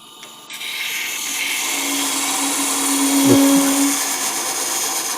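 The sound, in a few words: wood lathe parting off goblet base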